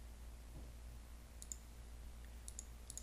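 Several sharp, faint computer mouse clicks, one single and then a quick cluster near the end, over a low steady hum, with no talking.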